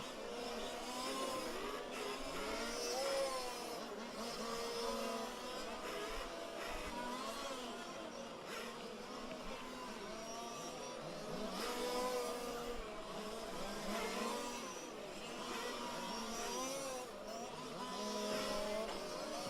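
Several 1/5 scale RC race cars lap a track in a main-event race, their small engines buzzing and droning steadily as they run down the back straight, with passing whines rising and fading over continuous track noise.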